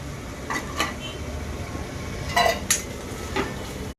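Ketchup being stirred into macaroni pasta in a pan, a low steady sizzle under light scraping and a few metallic clinks of a spoon against the pan, close by.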